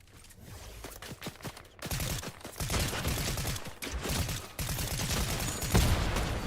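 Gunfire in a video game, dense rapid bursts of automatic fire that run almost continuously and grow louder, with brief gaps between volleys and no talking over them.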